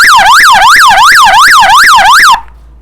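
The third tone of a police and ambulance siren horn is a loud, rapid electronic yelp that warbles up and down about eight times before stopping abruptly, with no voice.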